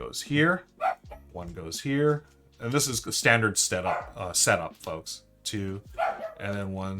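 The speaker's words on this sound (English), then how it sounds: "I don't know if you can hear the dogs barking." Dogs bark in the background during a solo run-through of the Canopy card game, faint and intermittent beneath a man's steady, close talking.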